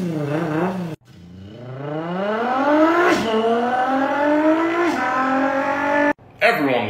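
A voice imitates a V6 twin-turbo car engine, with rising revs climbing in pitch over several seconds, brief gear-shift dips between pulls, then a cut and a short burst at the end.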